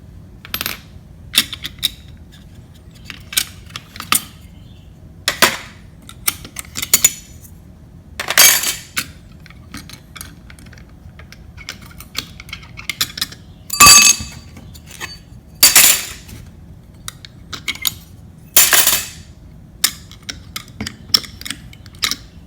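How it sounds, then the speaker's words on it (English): Metal platters being removed from a dismantled hard drive, giving a series of sharp, bright metallic clinks and chinks spaced irregularly against near silence, some louder than others. "Next step is to take out the platters over here."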